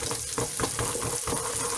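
Steady crackling sizzle of whiting frying in a hot pan, dense and continuous with a few louder pops, close by.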